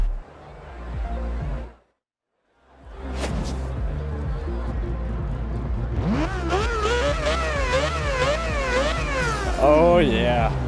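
A Mazda RX-7 rotary engine idles roughly, then revs repeatedly in loud, rising and falling sweeps from midway on, close by, with people talking over it.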